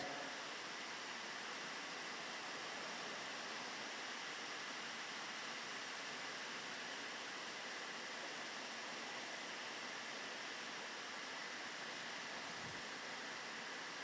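Running water flows steadily inside a church, a continuous broadband rush with no pauses or rhythm, heard alone at a moderate level for the whole stretch.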